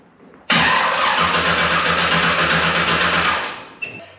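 A hot rod's engine cranks and catches abruptly, then runs loud and steady near the microphone for about three seconds before cutting off, with a short clunk at the end.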